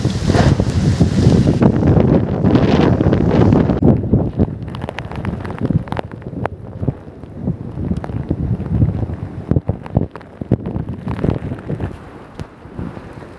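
A wind and rain storm sweeps through Sohra market in Cherrapunji. Loud, gusty wind buffets the microphone at first, then eases into scattered patters and knocks from the rain, with no talk.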